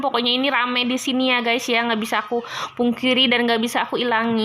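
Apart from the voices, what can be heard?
No everyday noises stand out.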